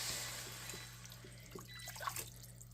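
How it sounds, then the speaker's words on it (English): Beef broth pours into a pan of thick, reduced wine sauce with a faint, steady liquid rush and light splashing against a low background hum. "So now we can go in with the beef broth."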